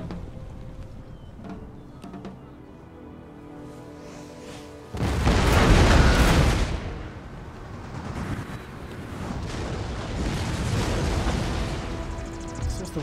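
A 24-pounder guard artillery barrage in Empire: Total War lands as a sudden heavy boom with a long roaring rumble, followed by continuing distant battle noise.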